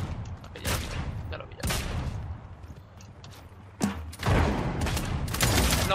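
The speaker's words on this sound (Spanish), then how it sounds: "Alguien disparándome, pero es muy malo." Bursts of gunfire in the battle royale game Realm Royale, several rapid volleys of shots at close range, some louder than others, with short gaps between them.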